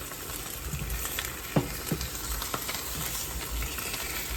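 An egg fries in bacon grease in a pan on the stove, giving a steady loud sizzle and crackle throughout, with a few sharper pops and spits.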